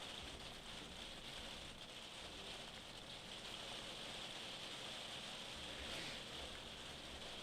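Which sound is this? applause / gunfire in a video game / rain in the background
rain in the background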